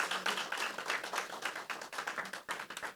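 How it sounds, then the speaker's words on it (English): Audience applause for a Hall of Fame induction class at a 2022 ceremony, a steady roomful of hand claps with dense, even rhythm that continues for the whole span at moderate distance. "Let's give all of our induction class members one more round of applause."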